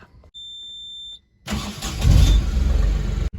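A truck parked on gravel fill during a long-haul Kakinada to Mumbai road trip: a steady electronic beep sounds first, then the engine cranks and catches into a loud, rising diesel rumble, close by.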